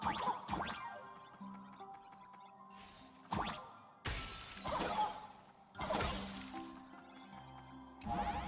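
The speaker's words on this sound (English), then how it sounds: "Okay, so they can shatter." Ice shatters several times in the video game Honkai: Star Rail, each a sharp crashing burst of breaking crystal arriving in separate hits over quiet game music, with no voices.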